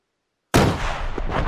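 Gunfire erupts in a combat operation: one sharp, loud report after a silent lead-in, its heavy boom rolling and echoing into sustained rumbling that persists to the end.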